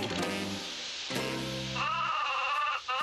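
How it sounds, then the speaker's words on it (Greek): A sheep or goat in a Lucky Luke cartoon lets out a long, wavering bleat, loud and close, stretching over several seconds with a clear quavering pitch. "Επιτέλους, βελάζει."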